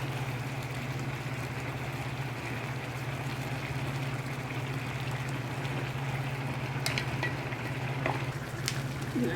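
Mutton gravy sizzling in a pan while being stirred for a Bengali-style tehri, with a steady low frying hiss, a constant hum, and a few faint scraping clinks near the end, fairly quiet and without talk.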